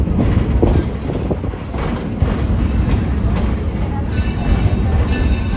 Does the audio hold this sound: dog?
no